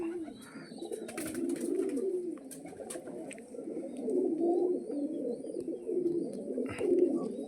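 Several pigeons coo continuously in low, throaty, overlapping calls close by, with a few faint clicks and rustles in the background.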